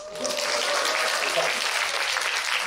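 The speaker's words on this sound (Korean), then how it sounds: "박수 한번 쳐주세요." A congregation at a church service claps steadily, a dense, continuous wash of applause that holds at an even level throughout.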